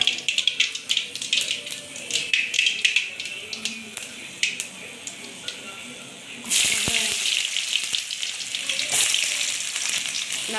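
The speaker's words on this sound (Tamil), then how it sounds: "கடாயில் தேவையான எண்ணெய், அடுத்தது கடுகு பொரிச்சிடும்." Mustard seeds spluttering and popping in hot oil in a kadai, dense crackling sizzle close up that swells louder partway through, with brief speech over it.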